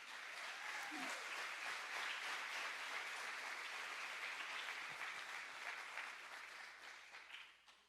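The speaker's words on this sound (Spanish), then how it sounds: "Un aplauso para el Señor." A church congregation breaks into sustained applause, a dense wash of many hands clapping together, steady and fairly loud before slowly thinning out near the end.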